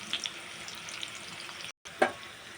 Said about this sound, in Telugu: ఉల్లిపాయలు బాగా కలుపుకోవాలండి. గోల్డెన్ కలర్లో వేయించుకోవాలండి.